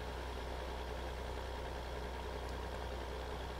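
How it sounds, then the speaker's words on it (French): A tractor engine in the Farming Simulator 2015 video game idles as a steady, fairly quiet low drone, running continuously without change and with no voices. "maintenant mon tracteur recule"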